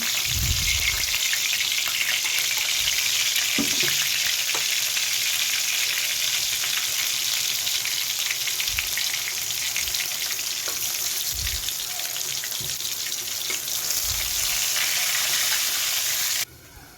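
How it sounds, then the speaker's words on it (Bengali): Potato pieces frying in a pan for a Hyderabadi potato and chicken masala, a steady loud sizzle with a few soft clinks and scrapes throughout, cutting off abruptly near the end. "দিয়ে দিলাম আলু আলুগুলো ভালো করে ভেজে নেবো"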